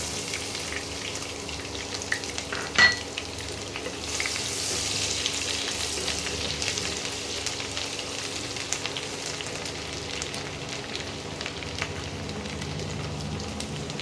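Chopped garlic frying in hot oil for chili chicken, a steady, fairly loud broadband sizzle that holds across the whole stretch, with one brief sharp pop near the start and no talking.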